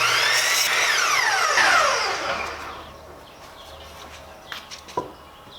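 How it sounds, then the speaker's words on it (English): A power tool cuts wooden planks for a farmhouse table top with a loud, whining rip that sweeps down in pitch and winds off over about three seconds, followed by a few faint knocks and clatters. "I'm going to need 5 of these planks for the top, and I'm going to cut them right now"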